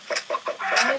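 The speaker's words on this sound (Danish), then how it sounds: "der er en hel masse kyllinger, der løber rundt om sin mor" Minecraft chickens clucking in a game, a chick flock running around its mother: four short synthetic cluck bursts in quick succession, close and clear, the last one longer and rising.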